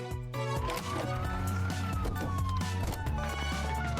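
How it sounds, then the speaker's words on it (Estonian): A police truck siren wails continuously through the clip, its tone sweeping slowly up and down over a busy, music-like backdrop with a low droning layer, loud and close, with no talking. "Politseiautodel on vilkuvad tuled ja valjud sireenid, et kõik saaksid neid nähes ja kuuldes tulemas."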